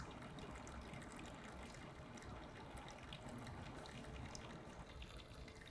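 An xBloom automated pour-over coffee brewer trickles water over ground coffee, giving a steady, faint splashing stream that runs without a break and with no voices.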